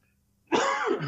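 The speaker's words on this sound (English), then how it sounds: "pardon me, I keep coughing" A single harsh cough bursts out after a brief silence, close and fairly loud.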